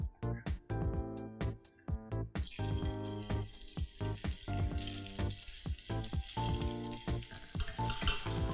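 Salmon fillet hits a hot pan and breaks into a loud, steady sizzle that builds and carries on to the end, with a few knocks and clinks from the pan at the start.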